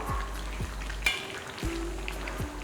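Chettinad chicken curry cooking in a pan without added water, a soft continuous sizzle with a few light stirring scrapes, close and fairly quiet.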